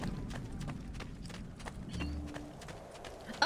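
Horse hooves clip-clop at a steady walking rhythm in the video game Assassin's Creed 2, fairly quiet amid ambient game sound, with a brief louder sound at the very end.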